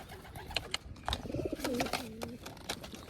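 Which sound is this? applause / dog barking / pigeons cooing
pigeons cooing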